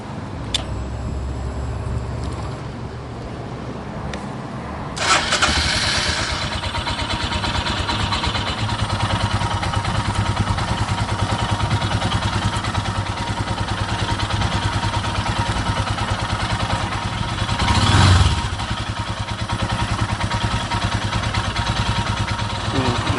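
A Royal Enfield Himalayan motorcycle engine cranks and catches, then settles into a steady, close idle that rumbles on evenly, with a brief louder rev near the end.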